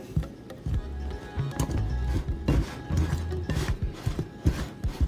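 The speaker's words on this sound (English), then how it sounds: "I'm just going to cut those in with my pastry knife." Cold cubed butter being cut into biscuit mix with a pastry knife for cheddar bay biscuits, giving soft repeated thuds and scraping taps in an irregular rhythm, close and moderately quiet, with no talking.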